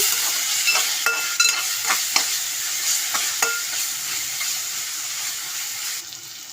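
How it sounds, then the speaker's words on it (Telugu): A spoon stirs chili powder and salt into a mixture frying in a pan for a salted-fish curry, with a close, steady sizzle and repeated scraping clinks of the spoon against the pan. "ఒక స్పూన్ కారం ఇలా కలుపుకోవాలి"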